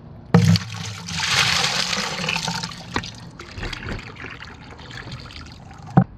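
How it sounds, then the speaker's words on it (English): Acid water poured from a bucket into a swimming pool after soaking a salt cell, a sustained splashing gush that trickles and dribbles, with a couple of sharp knocks from the bucket at the start and end. "Then I'll pour the bucket back into the pool."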